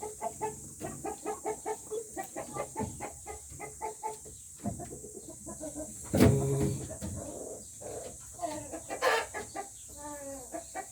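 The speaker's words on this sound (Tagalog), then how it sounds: "Mabait ito mga Kabi Farming itong rooster natin." A Dekal Brown rooster clucks in repeated short bursts close to the microphone, with a louder crow or squawk in the middle and farmyard background noise.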